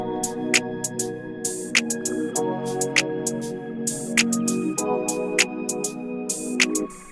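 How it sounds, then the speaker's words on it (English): A club R&B beat plays alone: steady melodic chords and a bass line under crisp, evenly spaced hi-hat ticks, with a shaker layered in to add bounce to the hat pattern. "Then we got a shaker to add to the bounce of the hi-hats."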